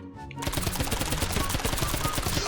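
Rapid gunfire in the Miniworld video game, a loud, steady stream of repeated shots rattling without pause after a brief quiet start.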